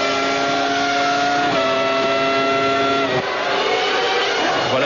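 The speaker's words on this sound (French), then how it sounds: "Avec Schumacher sur le V10 Ferrari," Ferrari V10 Formula 1 car racing at the 1998 Hungarian Grand Prix at the Hungaroring, a loud steady high-pitched engine howl that shifts pitch in distinct steps as it changes gear, close and continuous with no talk over it.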